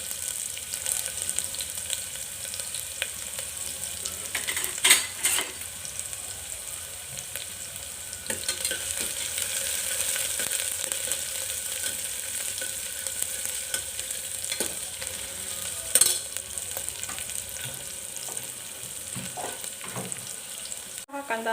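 Onion and garlic fry in a ladle of hot oil inside a clay cooking pot, giving a continuous hissing sizzle with intermittent louder scraping stirs, mostly without voices.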